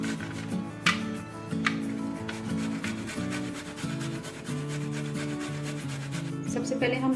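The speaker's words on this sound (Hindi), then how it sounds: "सबसे पहले हम लहसुन को बारीक साइड से ग्रेट कर लेंगे।" Garlic cloves rubbed against the fine side of a grater, a steady run of close, rasping scrapes in even back-and-forth strokes, with soft music playing underneath.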